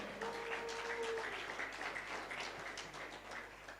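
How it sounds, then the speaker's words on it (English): A crowd at a DXN leadership camp event applauds, a dense wash of clapping that swells and gradually fades, with a few voices in the room over it. "Hold your applause."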